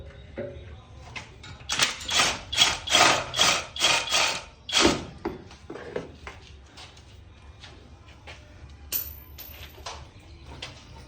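A ratchet wrench cranks the last transmission bolt on a 1976 Chevy squarebody truck in a run of about seven rhythmic, close clicking strokes, followed by scattered tool clinks and metallic handling.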